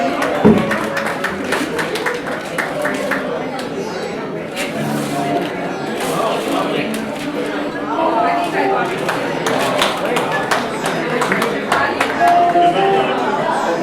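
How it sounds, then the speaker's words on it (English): A school event audience applauds a book unveiling with sustained, dense clapping throughout, mixed with crowd chatter and voices. "Everybody please give him a big round of applause."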